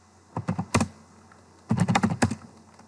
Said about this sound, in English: And type in this following command, python sudo python-m simple HTTP server.